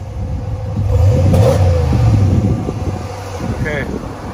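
A 2021 Ram 1500 engine revs up hard and holds a loud, rising roar for about two seconds before easing off, with wind buffeting the microphone and a voice speaking briefly near the end.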